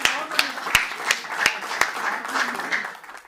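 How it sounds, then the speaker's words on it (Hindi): An audience at a Hindi kavi sammelan comedy poetry gathering claps for a poet in sharp, regular beats, about three per second, with a murmur of voices underneath. "एक बार बहुत ज़ोरदार तालियां बजाकर वीरेंद्र जी को कविताओं के लिए आमंत्रित करिए"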